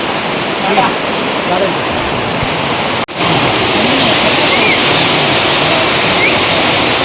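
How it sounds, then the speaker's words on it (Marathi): Dense, steady roar of heavy rain pouring down on a shed roof, constant and loud throughout, with a brief sharp dropout midway. "काय भारी पाऊस पडतो बघा जबरदस्त"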